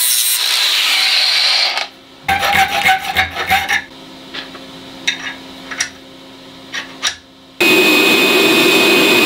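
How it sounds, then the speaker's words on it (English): An angle grinder cleans up a half-inch notch cut in a pipe for a sailboat foresail fitting, producing loud, sustained grinding at the start and end with lighter intermittent scraping and rubbing between. "I'm gonna have to clean it up with a grinder"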